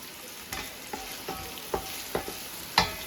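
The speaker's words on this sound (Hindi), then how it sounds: "जब तक हमारे प्याज होते हैं गोल्डन और हमारा जो गोश्त है वो भी फ्राई हो रहा है" Onions and mutton frying in oil in a saucepan on an induction hob for white pulao, a soft steady sizzle punctuated by six evenly spaced stirring scrapes and spoon taps, the last one loudest.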